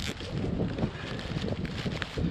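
Strong, gusty wind outdoors in freezing conditions, buffeting the microphone in a continuous rough roar with uneven surges.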